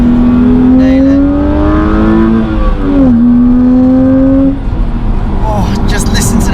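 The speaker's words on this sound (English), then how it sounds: "The engine note on this straight 6 is beautiful." A smooth straight-six engine in a BMW Z4 Coupe (262 bhp) revs up loudly from inside the car, its pitch climbing through the gears, dipping at a shift, then rising again.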